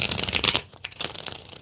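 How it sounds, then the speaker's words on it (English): A deck of tarot-style cards being shuffled by hand at close range, a quick riffling flutter followed by lighter shuffling taps, with no talking. "One more shuffle, y'all. One more shuffle."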